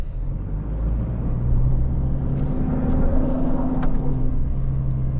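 A 2025 Toyota Prado 250 GX drives off-road with traction control off, diff lock engaged in high range and wheels spinning: a steady, loud engine and tyre rumble heard from inside the cabin, swelling slightly partway through.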